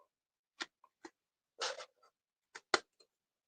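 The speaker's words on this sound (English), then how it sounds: "So I'm going to use my scissors." Sparse, close snips and crisp paper rustles arrive in short irregular bursts, with quiet gaps between them.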